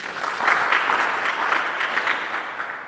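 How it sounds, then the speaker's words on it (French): A church congregation at a Catholic Mass claps together in steady, dense applause, loud and close, sustained without pause and with no voices over it. "Applaudissez pour Jésus."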